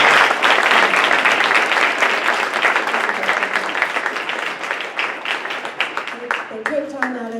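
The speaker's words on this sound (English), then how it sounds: "how about a round of applause for our" An audience at an architecture and engineering panel applauds the panelists, loud at first and thinning into scattered claps, with a voice starting to speak at the end.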